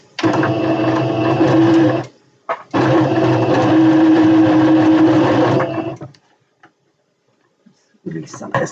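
A sewing machine stitches a satin drawstring bag in two steady mechanical runs, each a few seconds long, with a brief pause between them. It then falls quiet, and a few faint handling noises follow.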